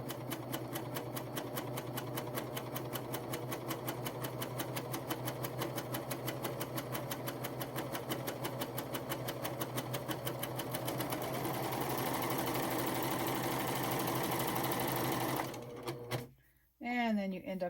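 PFAFF Admire Air 7000 serger with a gathering foot sewing and gathering fabric, a steady fast mechanical whir with rhythmic needle ticking, close and continuous, speeding up slightly before halting near the end.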